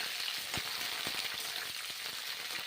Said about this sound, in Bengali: ফুলকপিগুলো ভেজে নিচ্ছি সর্ষের তেল দিয়ে রান্না করছি